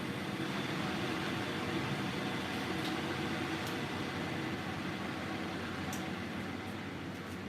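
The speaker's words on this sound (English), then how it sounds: "We'll move these fans around so that they're like these." Many fans cooling a 29-GPU mining rig in a hot box produce a loud, steady broadband whoosh and hum that fills the space without letup, with faint high clicks now and then.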